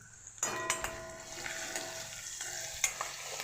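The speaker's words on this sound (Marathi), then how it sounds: "बघा, लसूण छान असा भाजून घेतला." Garlic fries quietly in a pan, a soft steady sizzle broken by a few sharp metallic clinks of a utensil against the pan.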